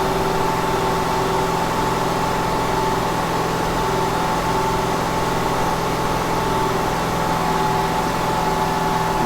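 A Ford Escape engine with a P1506 fault hangs at high idle, a loud, constant droning hum with steady tonal whine, unchanging throughout and without speech.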